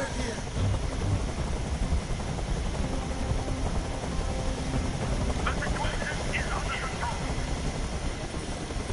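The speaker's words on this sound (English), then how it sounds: "I can't stand that noise anymore! Tell that helicopter to get out of here!" A helicopter in the Detroit: Become Human video game drones steadily with a continuous rotor and engine hum, loud and constant in the background.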